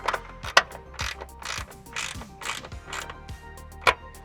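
Ratchet wrench tightening an 8 mm bolt while installing a rear fog light on a Nissan 370Z: quick bursts of clicking strokes, several in a row with short pauses, close and fairly loud, no talking.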